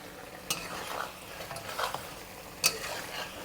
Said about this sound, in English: So just a little bit of a cornstarch solution. And just give this a light stir.